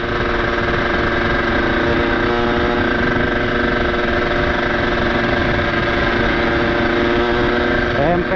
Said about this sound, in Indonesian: Wih, motor nggak mau dibawa pelan ini.